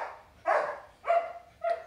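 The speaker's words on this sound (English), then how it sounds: "And he barks at the door." A dog named as barking at a door lets out three loud, close barks with short gaps between them, the last one shorter, and no talking underneath.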